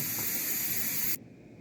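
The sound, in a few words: steam hissing out of Nesco smart canner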